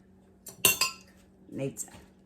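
A few sharp clinks of silverware against dishes, close and moderately loud, with a brief clatter of utensils near the end and no talking.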